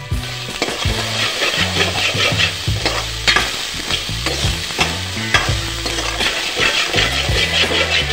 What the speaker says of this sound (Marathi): आणि चांगल्या प्रकारे मस्त दाणे भाजून घेणार आहे